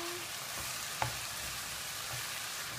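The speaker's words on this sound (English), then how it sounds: "I'm cooking my palabok." Palabok sauce cooking in a pan gives a steady, soft sizzle and bubble with a single light clink partway through, heard fairly close with no talking.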